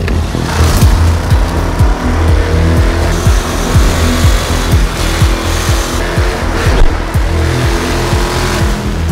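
A custom Royal Enfield 650 twin motorcycle being ridden, its engine droning steadily and loud with rhythmic low pulses and rushing wind throughout.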